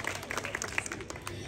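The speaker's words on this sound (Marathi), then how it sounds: "टाळ्या वाजवा रुपाली वहिनीसाठी" Applause for Rupali from a crowd, dense, steady clapping that is fairly close and loud throughout.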